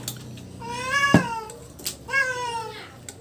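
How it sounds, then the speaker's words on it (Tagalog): A cat meows twice in a room during a home meal of tilapia in coconut milk with eggs, two drawn-out harmonic calls about a second apart, fairly close and clear, with a sharp knock between them and no talking. "pinalabas na muna namin yung pusa"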